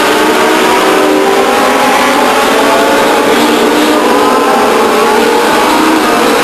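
Race cars roar around Stockton 99 Speedway in a 1999 race, a loud, constant blended engine drone from several cars at speed without talk.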